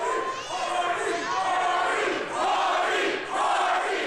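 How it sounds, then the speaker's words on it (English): A wrestling crowd roars behind a returning former champion in the ring, a loud, sustained wall of cheering and chanting voices that swells in waves without letup. "Listen to the crowd."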